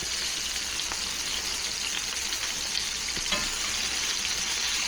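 Shrimp stir-frying in a wok of very hot oil, a steady dense sizzle and crackle with faint scattered pops and occasional stirring clinks, close and continuous without speech.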